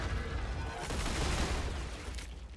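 Gunfire aimed at an enemy in the video game StarRupture, a sustained burst of shots and rumbling blasts at moderate loudness.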